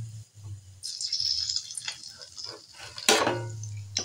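Vegetable chops, homemade carrot veggie cutlets, frying in hot oil with a steady close sizzle and bubbling that swells in bursts, including one sharp loud flare near the end, with no talk.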